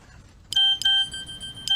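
A cellphone sounds a text message notification tone: a few loud, clear electronic beeps in short repeated bursts, heard alone against a quiet background.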